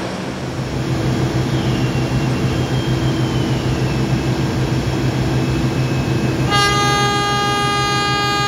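The Manahan train bound for Solo Balapan idles with a steady rumbling drone at a station, a long horn sounding near the end over the engine noise.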